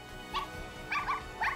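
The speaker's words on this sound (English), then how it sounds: "I think I'm going to add a dog. Make it a puppy." A dachshund puppy in The Sims 4 video game gives three short, close yips and whimpers in quick succession over a low background hum.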